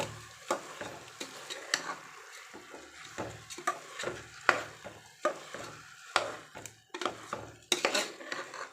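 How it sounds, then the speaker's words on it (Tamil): Ponni rice is stirred as it fries in oil in a pot for white kushka: a spoon clinks and scrapes against the metal in irregular strokes over a soft, faint sizzle, nearby and without talk. "அரிசி போட்டாச்சு, ஒரு கிளறிக்கலாம்."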